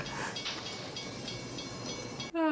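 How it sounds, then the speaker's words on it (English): A train passing in the film Back to the Future Part III, a steady rumbling clatter with rhythmic wheel clicks and noise, then a sudden loud tonal horn blast at the very end. "Hopefully there's not another train coming through here."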